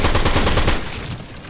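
Rapid gunfire from a Fortnite match, a dense burst of repeated shots that stays loud for most of the moment and then thins out toward the end, with no talk over it.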